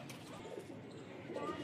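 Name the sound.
pigeons cooing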